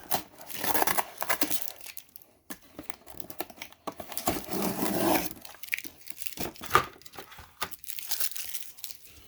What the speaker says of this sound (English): What we'll do is we'll just pull this tape off.